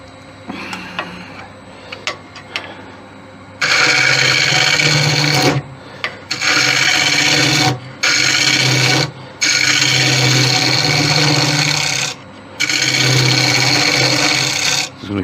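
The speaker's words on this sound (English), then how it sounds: "this stuff does not like being back hollowed at all" A lathe gouge back-hollowing the inside of a monkey puzzle wood vase, loud sustained rasping scrapes in several long passes separated by brief pauses, with a steady motor hum underneath.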